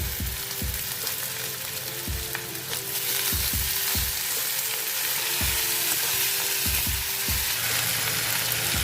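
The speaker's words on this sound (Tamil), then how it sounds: "கடுகு உளுந்து ஆட் பொரிஞ்சதுக்கப்புறம் நம்ம உருளைக்கிழங்கு ஆட் பண்ணோம். அதை நல்லா 2 நிமிஷம் பரட்டி விட்டுருக்கோம்." Potatoes sauté in a pan with mustard seeds and urad dal, a loud close sizzle under repeated rhythmic spatula strokes scraping and tapping the pan about once a second.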